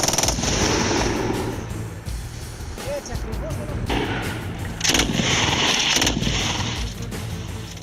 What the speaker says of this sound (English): Let's see and hear what that MG3 is capable of.